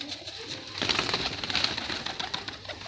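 Ferozpuri pigeons coo nearby in soft repeated rolling calls, growing a little louder midway, with a brief flutter of wings and no voices present.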